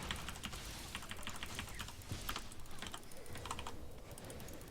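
Rapid typing on a computer keyboard, a dense run of soft clicking keystrokes mixed into steady game background noise, fairly quiet throughout.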